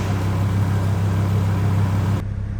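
BMW E60 M5 engine with an outlaw E85 setup idling a little rough, a loud close steady rumble with a low uneven drone that cuts off abruptly near the end.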